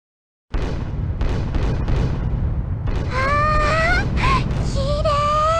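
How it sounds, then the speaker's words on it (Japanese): Fireworks in the Growlanser video game: a quick series of popping bursts, then rising whistling trails and crackling explosions over a steady low rumble of background music, all fairly loud and close. "そろそろ花火が始まるわよ。"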